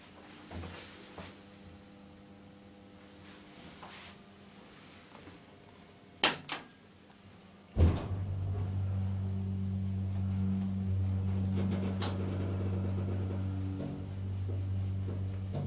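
Doors on an Oakland elevator at the Next Rushmere shopping centre slide shut with two solid knocks, followed by a steady low motor hum as the car sets off.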